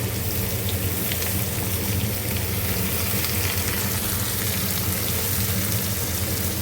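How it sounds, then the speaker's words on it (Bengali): Cauliflower, onion and corn frying in a pan, a continuous close sizzle with crackling and occasional stirring scrapes, steady throughout. "এবার ভাজা করছে"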